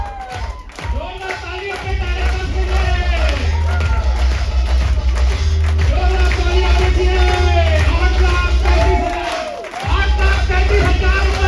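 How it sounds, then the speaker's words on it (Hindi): An audience at a motivational business seminar claps and cheers loudly and steadily, with music-like tones running underneath, a brief lull near the end, then renewed applause. "जोरदार ताली अपने टारगेट के लिए।"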